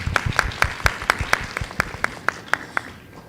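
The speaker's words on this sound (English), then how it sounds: "Let's give them a warm round of applause again." Sparse applause at an elderly health service forum in Thailand, with a few distinct evenly spaced claps ringing out for about three seconds before fading.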